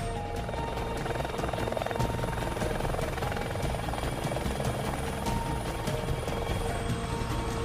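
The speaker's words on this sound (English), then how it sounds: "I didn't know you could fly an helicopter." A helicopter flies close by, its rotor thumping in a steady, loud drone with engine whine layered on top throughout.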